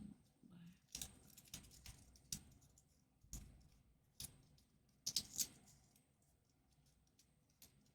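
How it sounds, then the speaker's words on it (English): Origami paper stars being folded by hand: faint, scattered crinkles, taps and sharp little clicks in an irregular rhythm, close and quiet. "Funny origami noises."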